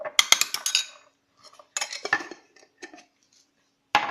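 A spoon scrapes and clinks against a bowl while mixing mustard for a salad dressing, in short irregular bursts of metallic scraping separated by brief pauses, close and fairly crisp, with no talking.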